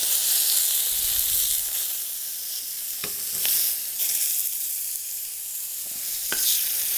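Partridge sizzles steadily in a hot pan while being basted, a constant bright frying hiss with a few sharp spits and crackles, close and alone with no talking.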